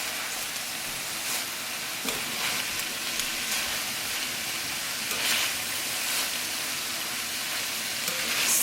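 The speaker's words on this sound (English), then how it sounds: "So I'm going to saute this for a little bit more, for about a minute or so, to incorporate the chayote squash with" Kale and chayote squash sautéing in a pan give off a steady, even sizzle that runs the whole time with faint crackles and no voices.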